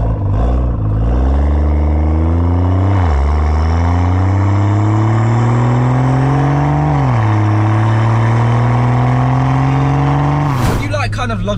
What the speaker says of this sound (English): You can hear the turbo whistle out of the exhaust more than out the front of the car,